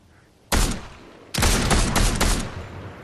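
Gunfire in the video game Fortnite: a single loud shot, a short pause, then a rapid burst of several close shots in quick succession.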